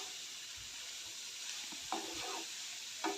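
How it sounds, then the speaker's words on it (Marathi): Shredded cabbage stir-fried in a pan, a steady low sizzle broken by scraping stirs and a couple of sharper spoon knocks near the end, close and fairly quiet. "आणि कोबी घालून चांगलं परतून घेऊया"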